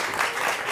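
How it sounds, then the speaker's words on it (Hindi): An audience at a political gathering in India bursts into a short, steady round of clapping that lasts under a second and has no voice over it. "जोरदार तालियां इनके लिए।"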